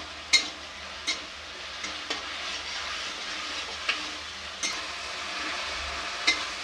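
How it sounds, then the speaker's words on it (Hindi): Tomatoes cook in a pan, giving a soft, steady sizzle broken by a spoon scraping the pan about every second as they are stirred. "तब तक के लिए इसे चलाते हुए पकाते रहें।"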